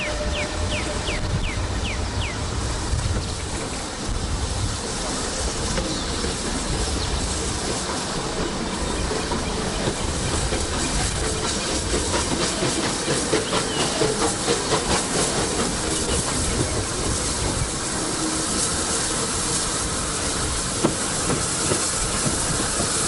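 Steam locomotive Tor Valley hauls a train on the Severn Valley Railway during a spring steam gala, a loud, steady hiss and rumble with rhythmic clickety-clack of wagons running throughout.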